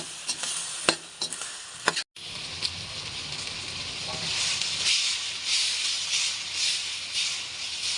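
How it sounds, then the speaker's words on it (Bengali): Eggplant frying in a pan with turmeric, salt and green chilli sends up a constant hissing sizzle with steamy crackle, broken by a few sharp clicks and a short dropout near the start. "এখন আমি বেগুনটাকে ভালো করে ভেজে নেব"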